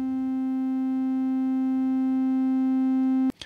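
A SOMA SimplexFM synthesizer holds a single steady tone rich in harmonics, its volume creeping slowly upward before it cuts off abruptly into a short click.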